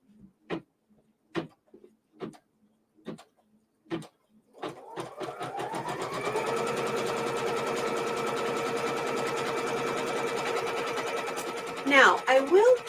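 Embroidery sewing machine stitching a placement outline onto stabilizer: a few isolated clicks and taps, then a steady fast mechanical whirring and rapid stitching rhythm up close that runs for several seconds and ends with clattering.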